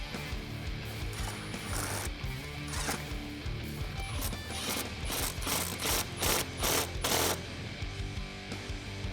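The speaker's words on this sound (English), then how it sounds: "now we're gonna tighten down these hose clamps" Ratchet tightening hose clamps on a cold air intake at the throttle body of a 2015-2017 Mustang GT, a fairly close stream of rapid clicking pawl strokes, faint at first and growing louder and more rhythmic toward the end.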